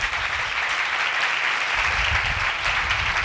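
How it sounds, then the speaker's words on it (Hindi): A church congregation applauds loudly during a live sermon, a sustained, dense wash of many hands clapping together with no pause. "आओ ऐसे खुदा के लिए ज़ोरदार तालियां बजाएं"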